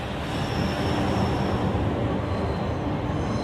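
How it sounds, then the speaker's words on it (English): A Eurostar high-speed train rushes along the track at speed, a loud, steady roaring rumble with a faint high whine and no voices. "From Paris to the Channel, the train flies."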